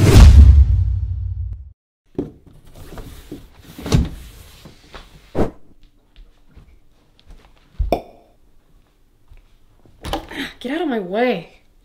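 Doors, apparently cupboard or sliding doors, open and close in a series of short thumps, slides and clicks spread across the passage, with faint voices and a rising, wavering vocal tone near the end.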